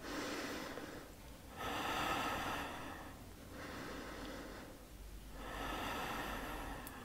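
Slow, deep yoga breaths drawn in and pushed out through the nose in a squatting Malasana pose, four long close breath cycles alone and fairly faint.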